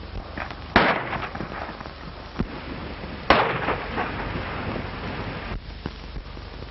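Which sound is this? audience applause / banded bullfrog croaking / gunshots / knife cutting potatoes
gunshots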